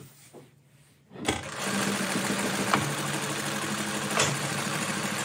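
A Juki LZ-2280B zig zag industrial sewing machine with a direct drive motor starts up after a quiet moment and stitches steadily with back tacking, a close, even mechanical hum with a few sharp clicks as the switch is used.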